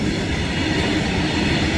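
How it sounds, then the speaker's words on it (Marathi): A long freight train rolls past close by, its heavy rumble and rattling wagons forming a loud, unbroken roar for the whole stretch. "हे बघा किती मोठी आहे मालगाडी आहे मालगाडी"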